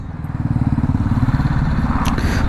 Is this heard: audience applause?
no